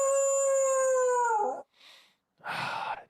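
A dog howls in one long, loud, sustained wail that bends downward at the end, followed by a short breathy noise and a second harsh burst, with no talking.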